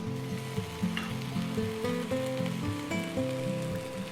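Moringa drumsticks sizzle steadily in a hot frying pan, a continuous crackling fry with the occasional clink of a utensil as they are tossed, close and fairly loud.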